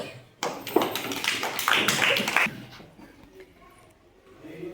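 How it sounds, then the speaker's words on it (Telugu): Children in a classroom break into a burst of applause, quick overlapping claps for about two seconds, then fade to quiet room noise. "క్లాప్స్."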